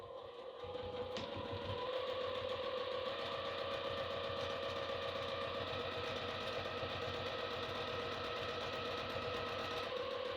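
Domestic sewing machine running steadily for a long straight seam, stitching a strap connector onto a duffel travel bag; a continuous close, even mechanical whir and rapid needle chatter after a brief start.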